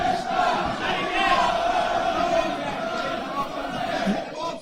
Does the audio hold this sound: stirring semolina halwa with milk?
no